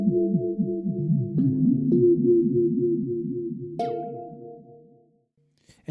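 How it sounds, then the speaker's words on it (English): A laser effect from a Planetary Vibes drum synth: a steady, loud, warbling zap-like pulse that repeats rapidly for several seconds, shifts upward near the end, then cuts off into silence. "Laser gives a neat laser effect."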